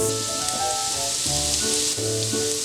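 Garlic sizzles in olive oil and tarragon butter in a pan with a dense, close crackle that runs unbroken, while faint tonal sounds drift in the background.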